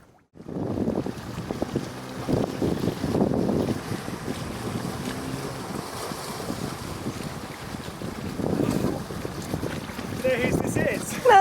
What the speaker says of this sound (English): We can't med more in these 50 knot winds.